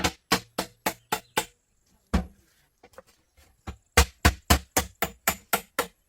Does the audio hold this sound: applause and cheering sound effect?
no